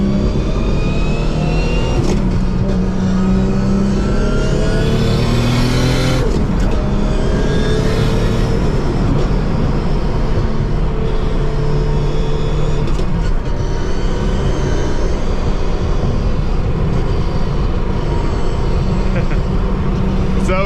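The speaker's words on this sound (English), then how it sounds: "You can hear that straight cut gear sound in it." A Nissan Skyline R32 GT-R with a straight-cut sequential gearbox revs and accelerates hard through several clutched gear changes, with a high mechanical gear whine riding over the loud, continuous engine roar.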